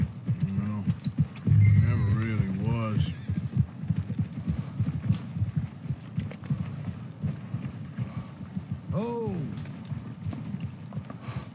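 Horse hooves clip-clop steadily on the ground in Red Dead Redemption 2, loud and close, with snorts and a whinny mixed in and muffled game speech underneath.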